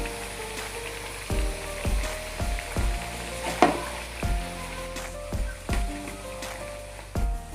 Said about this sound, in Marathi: आता उलट्या करून या वरच्या साईडनं तळून घेऊया